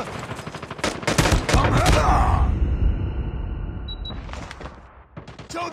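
Sniper gunfire and a burst of shots ring out in a mobile shooter video game, loud and dense through the first couple of seconds, then fading under game voice callouts, with a few later cracks.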